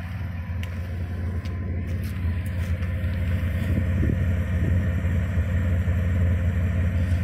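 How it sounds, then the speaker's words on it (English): Toyota 1FZ-FE six-cylinder engine idling in an 80 series Land Cruiser, a steady low rumbling drone heard close, with a faint intermittent tick over the top and no talking. "At idle, this should be how your engine sounds normally."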